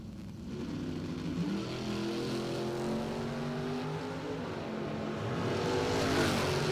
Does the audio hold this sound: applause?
no